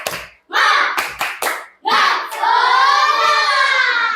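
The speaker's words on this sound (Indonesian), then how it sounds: "tepuk semangat" A primary school class performs a rhythmic 'tepuk semangat' cheer, loud children's voices chanting together over a few sharp patterned claps, ending in a long sustained group shout.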